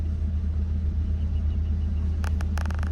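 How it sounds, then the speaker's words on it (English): An orange Volkswagen Beetle drives along with a steady low engine rumble and road drone from inside the cabin, with a few brief clicks or taps near the end. "I drive a cute little orange punch buggy."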